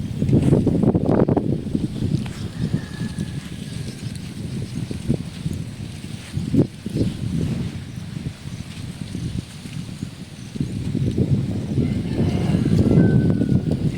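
Strong wind buffeting outdoors at Balabac, a continuous low roaring rumble that swells and eases, loud and close with gusts hitting the microphone.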